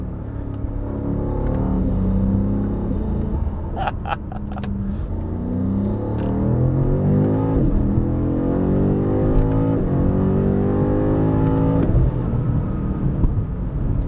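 A BMW M5 CS engine revs and accelerates up through the gears, its M Performance titanium exhaust growling loudly and rising in pitch with each pull.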